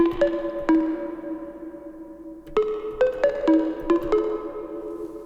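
Synth lead plays a melody recreating a house track, with bright plucked tones and sustained pitched notes, a few spaced hits then a denser run, close and clear with no voices.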